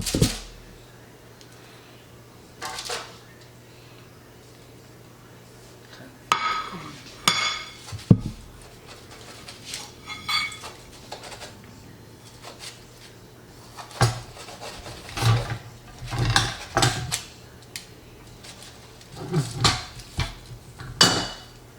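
Dishes and cutlery clink and clatter while baked cod is plated, with scattered sharp knocks and scrapes in uneven bursts and a steady low hum underneath.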